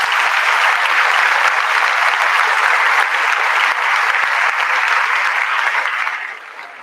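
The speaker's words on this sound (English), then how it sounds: "So let's give them a round of applause." An audience at a staff end-of-year celebration gives a round of applause, loud and sustained clapping from many hands that fades away near the end.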